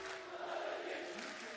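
Esports arena crowd at a VCT Champions Istanbul Valorant playoff match, a dense sustained roar of cheering that holds steady at a constant level throughout, with no distinct voices standing out.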